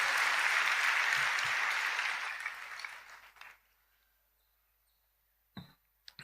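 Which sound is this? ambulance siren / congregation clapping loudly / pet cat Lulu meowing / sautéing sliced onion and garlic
congregation clapping loudly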